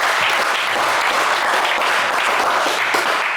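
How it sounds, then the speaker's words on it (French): Studio audience on a French television game show applauds contestant Brian with dense, steady clapping that stays loud and even throughout, with no talk over it. "Pas évident, mais on vous applaudit,"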